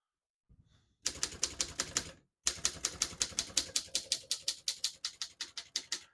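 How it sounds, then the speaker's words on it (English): Rapid typing on a 1933 Corona 4 vintage portable typewriter, a few light taps, then two runs of steady, loud, crisp key strikes close up with a brief pause between them. "As you can see, all the keys type nice and none of them skip or stick."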